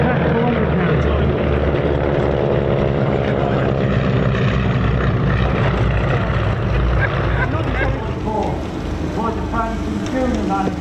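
A P-47 Thunderbolt warbird built in 1945 at Evansville, Indiana, flies at the Old Buckenham airshow, its piston engine and propeller droning loudly and steadily, fading slightly near the end, while an announcer talks over it.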